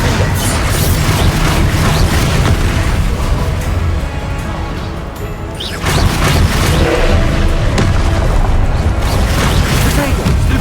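Confringo spell explosions in the Hogwarts Legacy video game: loud, dense booming blasts and crashes that keep going almost without a break, with a short dip in the middle before the barrage resumes.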